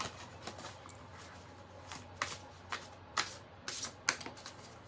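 A deck of oracle cards is shuffled close up, giving quiet, papery riffles and soft slaps in irregular bursts that grow busier toward the end, with no talking.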